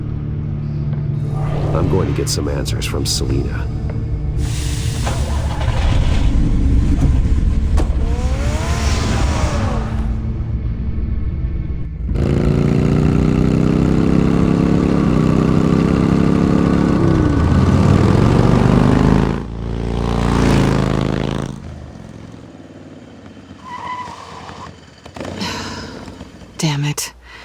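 The Batmobile's engine in Batman: The Telltale Series roars loud and sustained, rising and shifting through long stretches of throaty rumble mixed with game music and effects, while someone speaks briefly over it.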